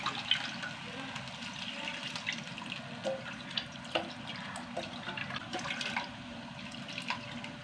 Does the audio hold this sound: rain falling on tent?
no